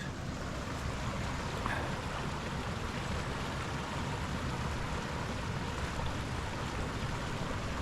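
High lake water spills over a creek bank and bypasses the creek's loop, a steady, moderately quiet rush of flowing water outdoors.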